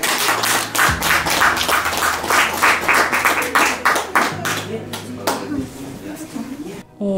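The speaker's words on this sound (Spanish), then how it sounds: "Un aplauso." Wedding guests in Smelter, Pasco, applaud at a candle-lighting moment, lively clapping with a few sharper claps, over sustained low background music, fading toward the end.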